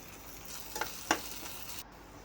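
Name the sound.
garlic and ginger frying in a pan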